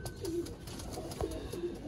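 Black-faced pigeons on a rooftop in Sialkot give soft, low coos, a few short throaty calls close by over faint background hiss.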